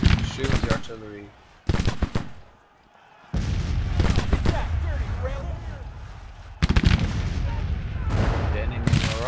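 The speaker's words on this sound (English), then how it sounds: "Shoot the artillery." Artillery and rifle fire boom and crackle in a Civil War battle video game, loud bursts of volleys broken by a brief lull, with a voice talking between the shots.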